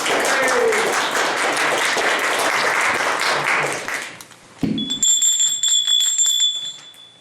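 Bells ring out at a speaking event, loud, layered and continuous, joined by applause-like clatter before fading into a few sustained, clear bell tones that hang in the air.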